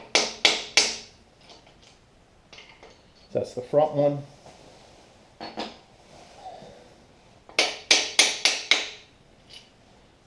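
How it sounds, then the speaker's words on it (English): Sharp metallic hammer taps on small-block engine crankshaft parts in quick bursts of three to five strikes, near and loud, with someone speaking briefly between the groups of blows. "we got to tap them with a hammer"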